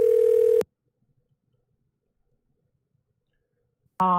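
A telephone ring tone sounds on a conference call line: a steady electronic tone cuts off, silence follows for several seconds, then another ring burst begins, clear and close.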